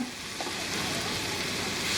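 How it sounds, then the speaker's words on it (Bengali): Steady, hissing sizzle of capsicum and tomato frying in a pan, continuous and fairly close, with no voices. "ভেজে নিব ক্যাপসিকাম টমেটোটা একটু নরম হওয়া পর্যন্ত"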